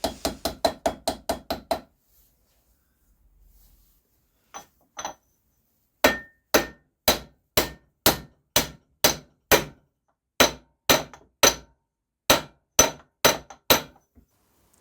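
A hammer drifts sealed bearings into a Scott Flying Squirrel motorcycle rear wheel hub, giving a fast burst of sharp metallic blows, a pause, then a steady run of evenly spaced loud strikes.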